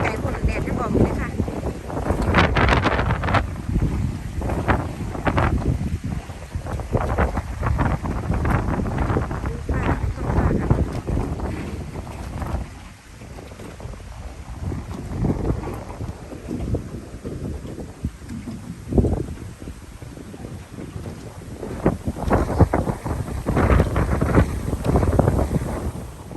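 Strong wind buffets a boat pier ahead of a rainstorm, roaring and gusting loudly against the microphone with rushing water and creaks in the background while people talk at times.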